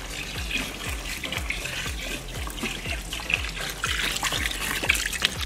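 Tap water runs and trickles steadily into a container while slime is being made at home, with a repeating dribbling patter and splashes, close and fairly loud, no talking.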